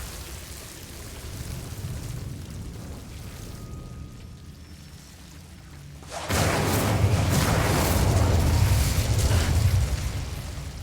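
An Incendio fire spell cast in Hogwarts Legacy on PS5 Pro bursts in as a loud, sustained roaring whoosh of flame after a quieter stretch, holding for several seconds before easing off.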